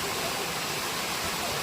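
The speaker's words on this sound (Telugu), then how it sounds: "మేము అక్కడి నుంచి ఆ వాటర్ ఫాల్ పడుతున్న దగ్గరికి వచ్చాము" Ananthagiri waterfall heard from close up, a steady, dense roar of falling water filling the whole scene without pause at moderate loudness.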